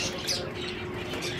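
Small finches chirp at a bird shop, faint high tweets scattered over a low hum of background voices and shop noise.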